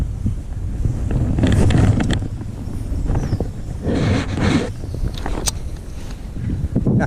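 Gusty wind buffets the microphone on a windy day beside the water at the Norfolk Broads while lure fishing for pike, a loud, rumbling roar that swells and eases with occasional faint rustles.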